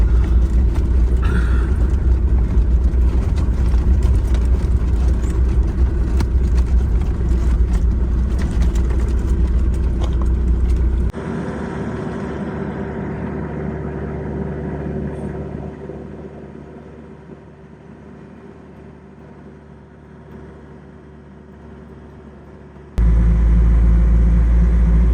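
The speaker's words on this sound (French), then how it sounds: "Je viens d'entendre la voiture de Tony là derrière, là au fond, qui se met en route." A car engine runs with a low rumbling idle, then drops away as the vehicle pulls off and fades into the distance, before a loud rumble returns abruptly near the end; outdoors in Senegal on the way to the beach.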